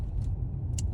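A self-driving Tesla rolls along a Los Angeles road in rush-hour traffic, a steady low rumble of tyres and cabin noise with a faint hiss of passing vehicles.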